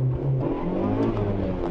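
A Suzuki Ignis rally car at the Budapest Rallye 2006, its engine revving and pulling hard from inside the cabin, a loud continuous drone with shifting pitch.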